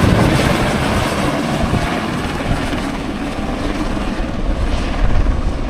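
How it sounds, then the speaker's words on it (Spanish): A helicopter passes overhead and sets down close by near New Zealand's glaciers, its steady broadband rotor and engine roar filling the scene loudly throughout, swelling slightly toward the end. "Este helicóptero que acabáis de ver pasar y que está aterrizando aquí al ladito"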